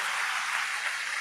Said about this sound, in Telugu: గట్టిగా చప్పట్లు కొట్టి ప్రభుని మహింపరుద్దామా గట్టిగా.